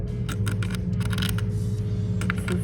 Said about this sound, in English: you'll be able to hear the sound of my fingers scraping against it here too.